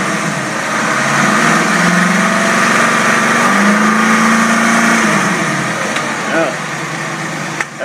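An engine fed by three single-barrel Rochester carburetors runs loud and close, holding a steady drone that lifts slightly in pitch midway before easing back toward idle.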